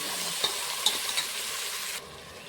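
Vegetables, cucumber among them, frying in oil in a pan while being stirred for a mixed-vegetable pulao, a steady soft sizzle with a few light clinks of a spoon, then the hiss cutting off near the end.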